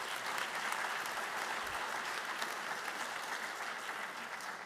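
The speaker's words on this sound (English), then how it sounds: "let's give them a big round of applause" Steady, full applause from a school ceremony audience honoring the facilities crew, continuous and even throughout with no talking.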